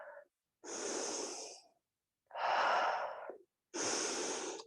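Heavy breathing while recovering from a Pilates exercise: three long, loud, rasping breaths separated by short silences, close to the listener with no talking.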